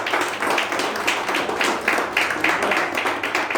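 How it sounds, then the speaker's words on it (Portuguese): A church congregation claps steadily in a reverberant hall, a dense, even patter of many hands applauding. "Aplauda o Senhor Jesus."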